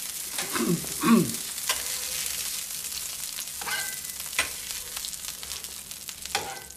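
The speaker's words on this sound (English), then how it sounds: "there we are at the end of 2 minutes cooking time for 2 quarter-pounder burgers" Two quarter-pounder burgers sizzle on a contact grill, a steady close frying hiss with a few louder spits and crackles over the whole stretch, no talking.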